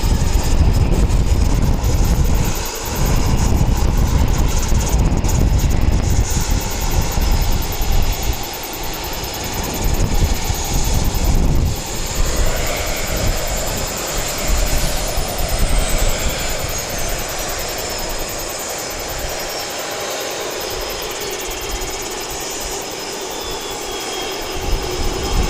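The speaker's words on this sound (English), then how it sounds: "there's a dash 8 on pushback, which is going to Rotorua by NZ8236." A Dash 8 turboprop airliner being pushed back at Wellington Airport gives a steady, loud engine roar that fills the clip, easing slightly in the second half, with no talking.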